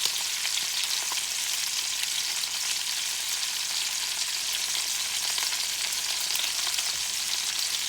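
Pork tenderloin frying in a pan, a steady, dense sizzle with crackling pops that holds evenly at close range throughout, with no talking.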